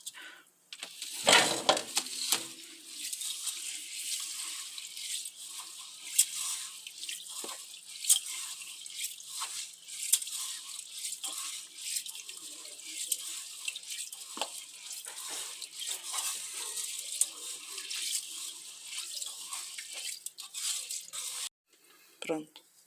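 Sushi rice being rinsed under a running kitchen tap after polishing, a steady broadband wash of splashing water with drips, close and continuous, while a person talks throughout.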